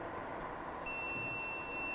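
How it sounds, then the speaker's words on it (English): A server's alarm buzzer sounds after one of its power supplies is pulled out during a simulated failure, a steady high electronic tone joining in partway through over a constant fan hum, with no talking. "So you can hear the buzzer."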